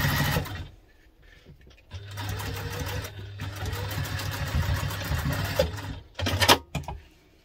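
A sewing machine stitches a seam on a fabric sling bag at construction stitch length: a short burst first, then a long, steady whirring run, and a brief final spurt.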